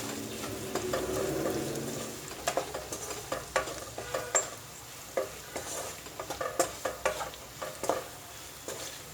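Ivy gourd sautéed with chili powder and turmeric in a pan gives close, irregular scraping stir strokes over a soft sizzle, repeating every second or so.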